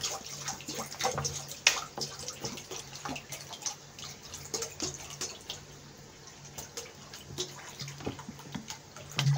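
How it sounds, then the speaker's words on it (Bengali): Dal lentils are rinsed in water, with running water from a tap and irregular splashes and sloshing close by, moderately quiet and without speech. "ডালটা ধুয়ে নেবো"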